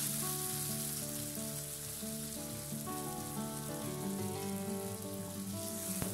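Poppy seed and garlic paste sizzling in hot oil with crackling panch phoron, a steady close frying hiss with dense crackle throughout, no voices.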